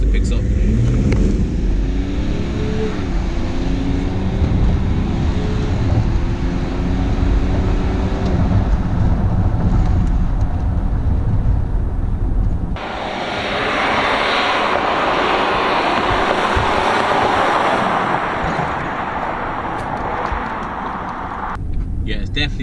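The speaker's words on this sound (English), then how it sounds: "So I'm going to quickly put my foot down a little bit and see how fast it picks up." A 3-litre Range Rover accelerates under a firm press of the throttle, its engine note climbing steadily before giving way to a broad, steady road and wind roar.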